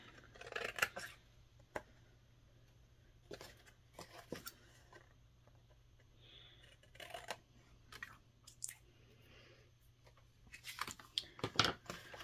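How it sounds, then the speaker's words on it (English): Scissors trim an excess strip of paper off the edge of a handmade card, a handful of quiet close snips and rustles scattered through an otherwise hushed room with a faint hum. "I have a little extra hanging off the edge, and all you need to do is trim that away"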